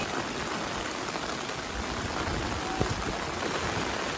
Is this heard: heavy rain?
yes